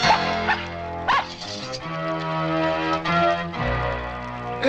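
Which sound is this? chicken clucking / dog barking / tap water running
dog barking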